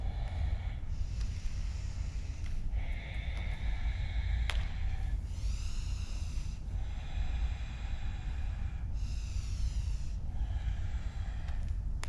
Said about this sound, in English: Take another inhale, release that breath fully.